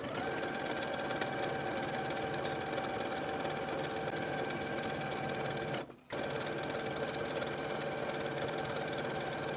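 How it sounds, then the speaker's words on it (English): A sewing machine runs steadily as it stitches across the facing of a cardigan jacket, a continuous close mechanical whir that cuts out briefly near the end and then resumes. "Then I'm going to take it to my sewing machine and sew from one edge of the facing all the way across"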